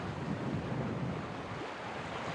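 Gusty wind of 14 to 20 knots roaring over a sailboat under way at sea, a steady broad rush of air and water, close and unbroken, with no speech.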